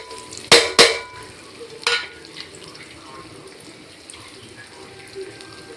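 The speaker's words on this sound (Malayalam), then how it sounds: "എണ്ണയിലേക്ക് നമ്മൾ അരിഞ്ഞ് വെച്ചിട്ടുള്ള തേങ്ങയും മറ്റു സാധനങ്ങളും നമ്മൾ ഇതിനകത്തേക്ക് ചേർത്ത് കൊടുക്കാം." Chopped coconut and other ingredients go into hot oil for a prawn roast: two sharp scraping stirs near the start and another a little later, then a soft, continuous sizzle of frying that fades to a low hiss.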